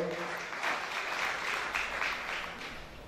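A crowd at a celebration-of-life memorial gathering applauds, a short burst of clapping with a few swells, moderately loud and fading slightly at the end.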